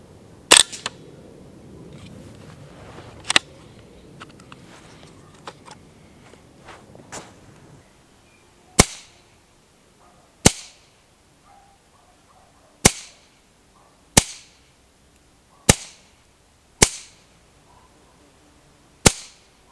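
Savage A22 Pro Varmint semi-automatic .22 rifle firing repeatedly outdoors, sharp loud cracks that start sparse and then settle into an even sequence of about eight evenly spaced shots with quiet gaps between them.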